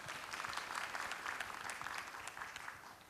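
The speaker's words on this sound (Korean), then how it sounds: "다시 한번 이호상 대표이사님께 큰 박수 부탁드리겠습니다." A room full of people at a regional healthcare forum in Korea claps steadily for a few seconds, the applause dense and even before starting to fade.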